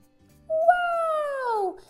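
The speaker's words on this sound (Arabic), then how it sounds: "بسة سودا عطول بتجي وبتنوي وبتسلم علي" A black cat gives one drawn-out meow, rising then falling in pitch, clear and close against a quiet background.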